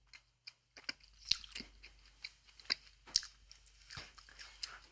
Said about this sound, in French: Je peux passer 30 minutes à mâcher là.